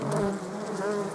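Honeybees buzzing on a single hive frame as a new queen emerges, a dense continuous close drone with overlapping wingbeat hums, loud and steady with no talk.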